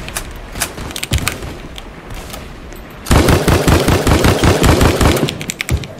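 Rapid bursts of assault rifle fire in the Roblox shooter Strucid, loud and close, with a denser, heavier volley of shots taking over in the second half.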